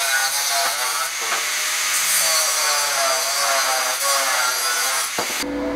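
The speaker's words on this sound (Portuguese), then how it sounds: "As correntes aqui eu tô cortando com 25 centímetros" Steel chain cut to length for a metalon stool produces a loud, continuous harsh grinding and sawing sound, close and steady for several seconds with a brief cutoff at the end.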